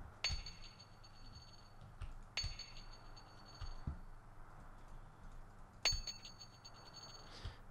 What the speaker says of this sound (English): Which is originally like a coin drop.